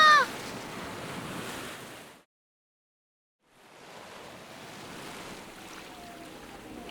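Ocean waves surge and wash as a steady broadband roar, breaking off briefly into silence before swelling back, with wind-like noise and no talking, in a scene of a professor struggling against the sea.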